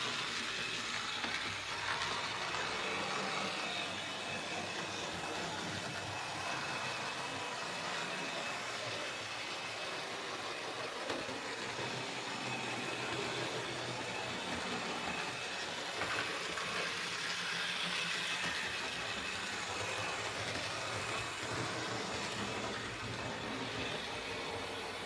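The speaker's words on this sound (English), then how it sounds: "after a good clean-up and service, new wiring and new tyres, this old machine ran okay" An old restored model 55 machine with new wiring and tyres runs continuously, giving off a steady broadband whirring and rattling hum at a moderate, even level with a faint high whine.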